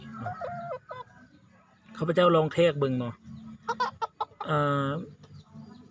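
Young Tan Jo chickens, about four to five months old with long tails, cluck close by and one lets out a long, loud crow near the end, with someone talking between the calls.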